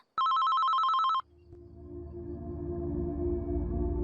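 A cellphone's incoming-message notification sounds as a loud, bright electronic ringtone lasting about a second, then cuts off and gives way to a low, steadily rising rumble of background noise.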